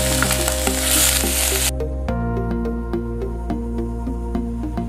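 Crushed ginger and garlic, dried chillies and curry leaves hitting hot oil with a loud, dense sizzle that drops off sharply, leaving a low hum and scattered ladle clicks.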